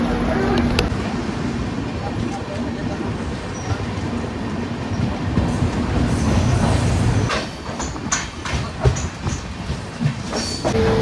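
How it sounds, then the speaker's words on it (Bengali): The Amritsar–New Jalpaiguri Express arrives at a railway junction with steady rumbling and clickety-clack of wheels and carriages, and faint squeals later, while voices talk under the train noise. "এটা হচ্ছে অমৃতসর নিউ জলপাইগুড়ি এক্সপ্রেস"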